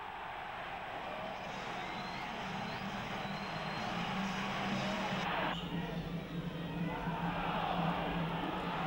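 A football crowd of about 11,000 roars after a goal, a broad, sustained wash of cheering and noise that holds steady, distant and continuous, shifting slightly midway.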